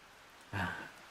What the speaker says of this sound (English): the nice, calming, soothing sounds of rain